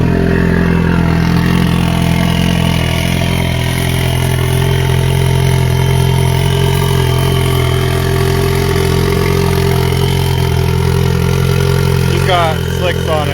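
A Polaris Pro R UTV running on a weak, cold battery settles into a loud, steady idle close by, its engine drone continuous throughout with someone talking over it.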